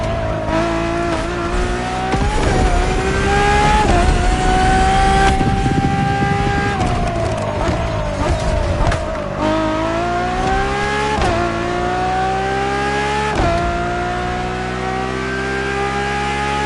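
Ferrari road-legal hypercar in the Motorfest racing game, its engine revving hard and climbing through repeated gear shifts, loud and close, with rising harmonic whine and brief dips between gears, and no voices.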